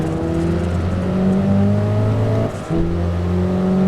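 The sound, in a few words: race car engine revving in video game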